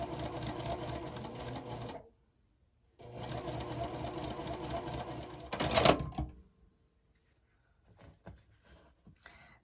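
A sewing machine runs close by in two steady bursts of rapid stitching along a quilt block seam for a pressed-flowers marigold block, with a short pause between and a brief clatter after the second run before quiet handling noises.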